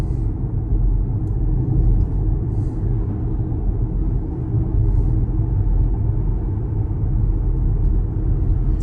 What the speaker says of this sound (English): you only hear road noise and wind noise